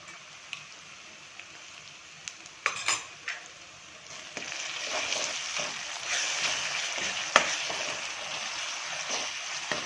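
Ginger-garlic paste frying in a pan with softened capsicum and tomato, a soft continuous sizzle that swells partway through, with a few sharp spoon scrapes and clinks.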